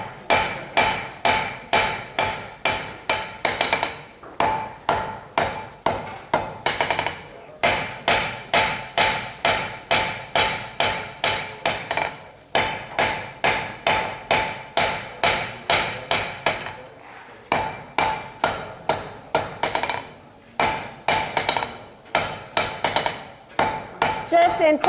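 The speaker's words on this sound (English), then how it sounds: "Just in terms of your technique when you hammer, I learned working this way, like forming a triangle with my body" A blacksmith tapers hot metal on an anvil at the 2012 Rocky Mountain Smiths Conference. Loud, close hammer blows fall in fast, steady runs, broken by short pauses between bursts, with no talking.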